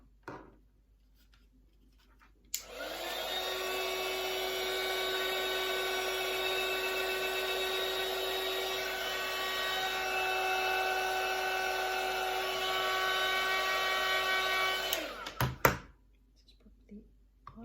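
A heat gun blows hot air onto Worbla thermoplastic, a loud continuous whirring roar with a steady tonal whine that starts abruptly, holds evenly for about twelve seconds, then cuts off with a clatter.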